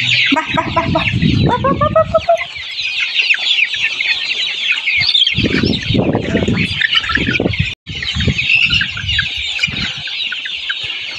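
Chickens clucking and squawking up close as they peck at leafy vegetables on a farm, a steady busy chatter of several birds with brief low sounds underneath.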